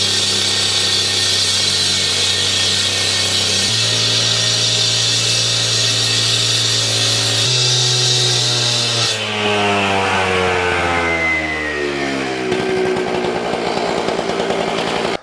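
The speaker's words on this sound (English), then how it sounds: "we got 2 more cuts here, so I'm just gonna grind through it" Angle grinder cutting expansion joints through concrete, a loud continuous whine that holds steady, then drops and slows in pitch toward the end of the cut before coming back up, heard alone without talk.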